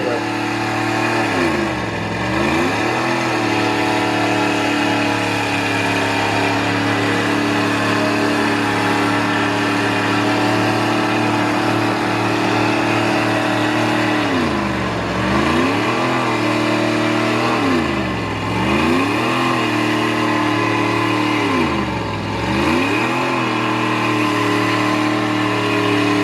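Mud bog truck at a motorsports park, its engine held at a loud, steady roar with several deep rev dips and surges as it fights through the pit, heard close and continuous.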